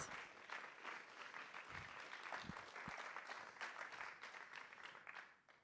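Sustained applause from a symposium audience after a presentation, a dense wash of clapping hands that holds steady throughout, heard from a moderate distance.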